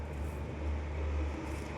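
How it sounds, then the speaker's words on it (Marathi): The firecracker seller's vehicle approaches outdoors on a cold night, heard as a steady low engine rumble that swells slightly as it nears, with no speech. "पाटक फिटरांच्या गाडीचा आवाज आहे."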